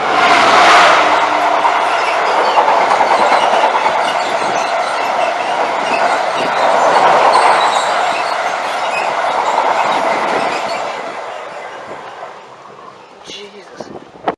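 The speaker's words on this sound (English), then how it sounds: "Freight train up." Freight train rolling past close by, a loud sustained roar of wheels and wagons holding steady before fading, with people talking faintly over it.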